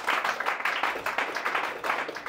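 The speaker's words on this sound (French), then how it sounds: "Un tonnerre d'applaudissements." Audience applause at a francophone stand-up comedy show, a dense steady wash of many hands clapping that fills the whole moment without pause.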